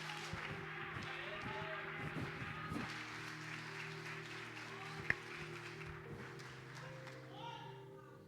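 Congregation applauding during a church service, a sustained wash of many hands clapping with a steady low hum underneath, fading slightly toward the end.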